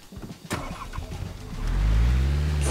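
A car engine in the Rust survival video game cranks with a few clicks and clunks, then catches and settles into a loud, steady low idle rumble that fills the second half.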